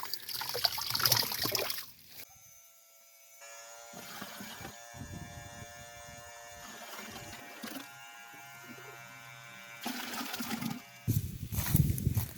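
Water squirting from a leaking buried water line beside a trench, briefly pressurised by a well pump; a steady trickling, hissing spray with machine-like tonal hum, loudest at the start and end.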